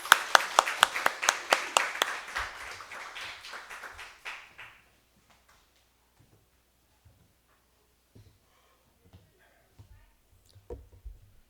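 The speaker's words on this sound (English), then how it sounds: "Let's welcome him with a round of applause." Applause for a speaker at a Sunday church service, a burst of brisk clapping from the congregation for about four seconds that fades into near silence broken by a few faint knocks.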